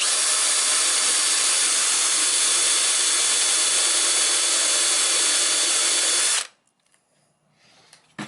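A power drill whines loud and steady, boring out rivets on a vintage Airstream window frame, then cuts off abruptly, leaving near silence and a faint clunk at the end.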